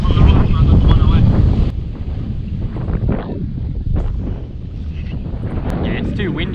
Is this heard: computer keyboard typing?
no